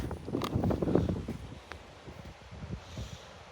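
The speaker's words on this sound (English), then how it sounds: "oh, it's windy" Gusts of wind on a Central Texas homestead buffet the microphone with low rumbling bursts, strongest at first and then easing into softer, intermittent puffs.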